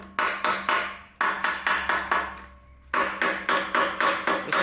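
Hammer tapping around engine holes and sharp edges to cut a cardstock gasket template, a series of close, crisp strikes in quick bursts of five or six, with a short pause between groups.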